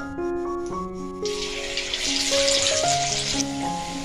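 Cauliflower pieces deep-frying in oil make a bright sizzle that swells midway and stays fairly loud, over background music with no talking.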